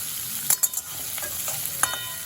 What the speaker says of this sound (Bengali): এবার আবার সব মিশিয়ে একটু ভাজা ভাজা করে নেব।